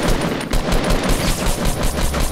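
Dense, continuous assault rifle fire in a video game with no shields, a rapid loud burst of shots running unbroken for a couple of seconds.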